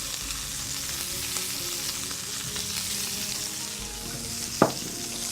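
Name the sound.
peppers frying in a pan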